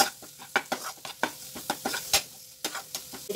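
Masala spices cooking in a pan for an aloo cheese paratha filling, stirred with quick, rhythmic scraping strokes over a soft sizzle, close, with no talk.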